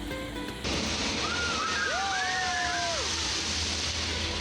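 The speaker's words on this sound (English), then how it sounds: "At the end is the water play area with the splash pad. Lots of small fountains and even more interactive features." Small fountains spray at a Disney World splash pad water play area, giving a steady close hiss of rushing water with faint whistly tones above it.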